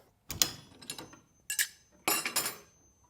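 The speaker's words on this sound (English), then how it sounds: "grab your wrenches and remove your blade" Metal wrenches clink and clatter sharply against each other and the saw as the blade is removed from a SawStop table saw, several close, bright bursts separated by short pauses.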